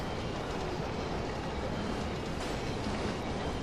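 Moving train in the video game Urban Chaos: Riot Response, a constant dense rumble of rolling wheels and rattle holding at a steady, moderate level throughout.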